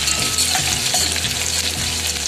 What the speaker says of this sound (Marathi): असं चांगले ब्राउन होईपर्यंत ही मिरची भाजायची